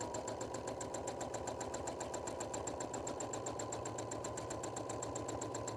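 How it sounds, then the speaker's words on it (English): A sewing machine runs steadily at speed during free-motion sewing with a darning foot, giving a fast, even mechanical chatter that continues unbroken and fairly quietly throughout. "you can control the direction that you're sewing in, so you don't need to turn your work"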